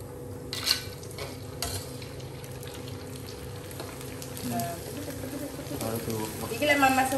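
Food frying in a pan for a family meal of eggplant and tempeh, a steady sizzle with occasional stirring clinks and scrapes, heard close under people talking.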